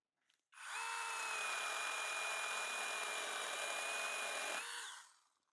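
A SeeSii 6-in-1 battery pole saw cuts through wood branches in a garden, sounding as a steady, loud, high-pitched motor whine that starts abruptly, holds for about four seconds and then winds down, with no talking.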